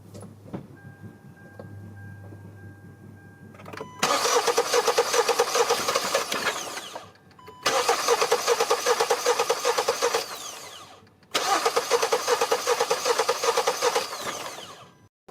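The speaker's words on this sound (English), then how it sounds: "And here it's cranking, but won't start." A Kia Sportage or Hyundai Tucson engine cranks without starting, three long loud bursts of rapid rhythmic starter churning separated by short silences, after a quiet idle hum with a faint tone.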